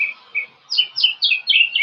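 Birds chirping outdoors in a yard, a sequence of clear, bright tweets repeating in quick bursts, fairly close and loud, with no talk.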